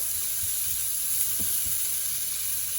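Sardines and onions sizzle in a hot pan with a constant close, steady hiss and a few soft low knocks, and no voices are heard.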